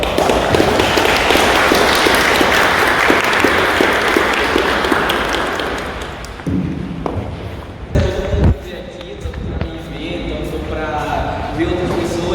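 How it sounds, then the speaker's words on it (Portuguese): Audience applause at a free-software festival lecture in Rio, dense clapping for the first several seconds that thins out and breaks into scattered claps and thumps, with voices mixed in throughout. "uma salva de palmas, por favor"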